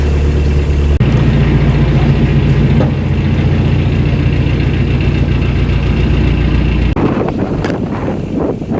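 A narrowboat engine chugs steadily at close range, a low throbbing hum that shifts slightly in pitch and load partway through.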